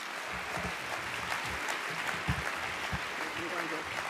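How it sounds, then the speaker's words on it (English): Audience applause at an academic association's presidential address, a steady wash of clapping across the hall with low voices and murmurs mixed underneath throughout. "Let's give applause to Deborah."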